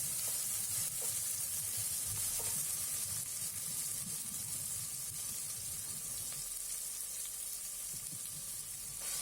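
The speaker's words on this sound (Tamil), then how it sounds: "இஞ்சி பூண்டு பேஸ்ட்டு இதையும் சேர்த்து அதோட பச்சை வாசனை போகிற வரைக்கும் நல்லா வதக்கிக்கலாம்." Ginger garlic paste sautés in a hot pan while cooking egg biryani, giving a steady, dense sizzle and frying hiss that runs throughout, close and continuous, with faint stirring scrapes and no speech.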